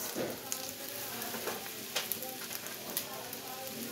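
Cabbage and onion fry in a pan with a steady close sizzle and occasional spoon scrapes and taps scattered throughout, at moderate loudness, with no talk.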